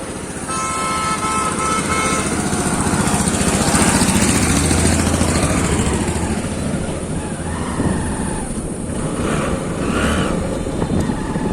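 A Hero Hunk motorcycle with a stock engine drones steadily while riding, its loud rumble rising and easing with the throttle, and wind rushes past throughout.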